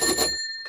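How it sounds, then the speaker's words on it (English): A bicycle bell on a Dutch bike gives a single bright ring whose metallic tone hangs and fades out, followed by a faint second tap near the end. "It's got a bell"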